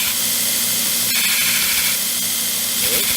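A homemade belt grinder runs for the first time against a piece of metal, a steady loud whine with a harsh grinding hiss throughout and a brief knock partway through.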